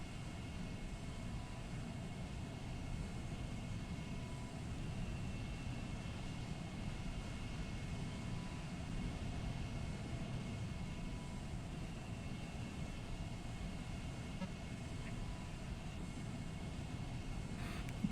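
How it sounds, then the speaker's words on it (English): An F-14 jet in VRChat speeds across the map with afterburners lit, a steady, muffled roar of engine noise holding at an even level throughout with no voices. "Put the afterburners on and speed across the map."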